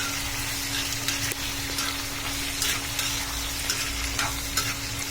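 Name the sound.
sautéing onions, tomatoes and mint in a pan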